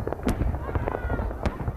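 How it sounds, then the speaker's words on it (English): Fireworks bursting over Pyongyang at a celebration of the leader's birthday, a run of irregular pops and crackles with a few sharper bangs, heard at a distance and continuing throughout with a busy crowd-like background. "An extravagance of fireworks entertains the chosen few."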